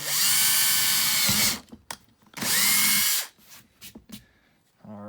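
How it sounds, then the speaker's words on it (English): A close power drill fitted with a 1/4-inch bit bores a second hole in a plastic box, two loud whirring bursts with a pause between, followed by scattered handling knocks and clatter. "we're going to drill hole number two over here"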